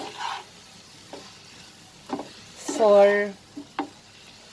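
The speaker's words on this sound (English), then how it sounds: "And now I will saute this and cook" Broccoli masala frying in an oiled pan, a soft sizzle broken by a few scraping stirs and knocks of a spoon, with a brief voice partway through.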